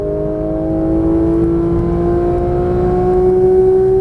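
A Porsche 991.1 GT3 on the Exotics Racing Las Vegas track pulls hard after an upshift. Its engine holds a loud, steady, close-up drone whose pitch climbs gradually, with no talking.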